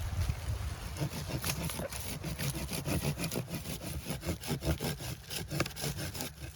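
An Ace Hardware trimming saw cuts through a stick outdoors, a close, steady run of rasping back-and-forth strokes in quick rhythm with no talking.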